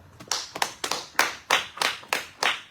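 Church congregation at a gospel conference clapping to acclaim the Lord, a sharp rhythmic burst of hand claps in a steady beat, close and fairly loud, with no talking.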